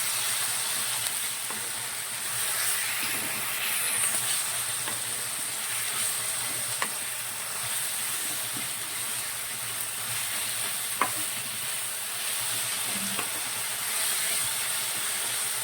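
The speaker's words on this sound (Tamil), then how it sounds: "நல்லா வெங்காயம் நல்லா வதக்கிட்டு" Onions sauté in a pan for an onion biryani, giving a steady, close sizzle with a few faint scrapes of stirring and no talking.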